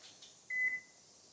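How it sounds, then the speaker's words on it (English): A kitchen timer goes off while pasta cooks, giving one short, thin electronic beep that is clear but not loud, alone with no talk. "All right, there's our timer."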